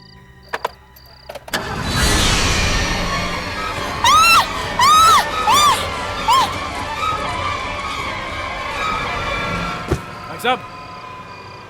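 A car engine cranks and catches, then runs at a steady rumble, with short loud tonal sweeps and voices speaking over it.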